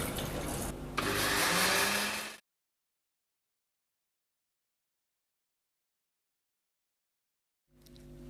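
A laboratory blender whirs loudly as it mixes a food sample, its motor pitch climbing after a second, then cutting off into silence before starting up again near the end.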